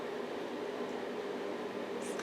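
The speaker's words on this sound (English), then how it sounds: "The noise you hear is from a fan heater from right on top of the house here on the second floor." A fan heater runs on the second floor of a house, giving a steady, even broadband whoosh with a low hum that holds at constant level throughout.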